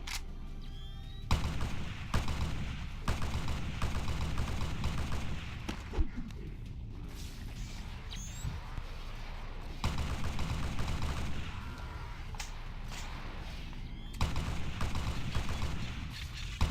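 Flamethrower fire sets off a grenade lying on the ground in Halo SPV3, with a dense wash of continuous game combat noise, sharp blasts and bursts of gunfire breaking through the roar at intervals.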